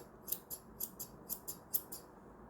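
Scissors trim a dog's facial fur along the chin, giving about eight crisp, quick snips in an irregular rhythm, close and clear against a quiet room.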